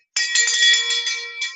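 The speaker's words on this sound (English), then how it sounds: "So when you see us ring the bell, that's what produces that." A bell is rung once in an office setting to mark a goal achieved, giving a bright metallic ring that sustains and slowly fades with no talk over it.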